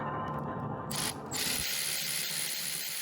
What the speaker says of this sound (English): I'm gonna also use a attachment with the universal joint for these 8mm bolts